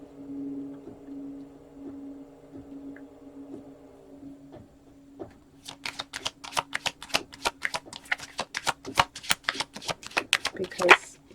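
Tarot cards being shuffled, a rapid series of crisp riffling snaps building up in the second half, close by, with a steady tonal hum underneath.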